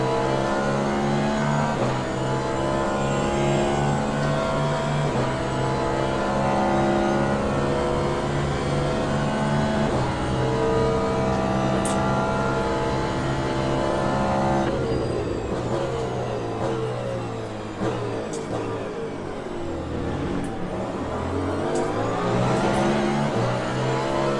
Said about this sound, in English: And these hypercars take some getting used to.